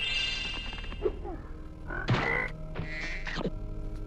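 A frog enemy in a video game croaks in a few short, warbling bursts over a steady electronic game soundtrack, with no voices during the calls.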